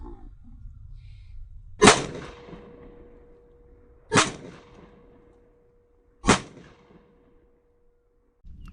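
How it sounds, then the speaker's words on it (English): A Staccato C2 pistol fires 115-grain 9mm hollow point rounds on a range, three sharp, loud shots evenly spaced about two seconds apart, each with a brief ringing tail, heard without talk. "115 grain hollow points. We're shooting it out of our Staccato C2."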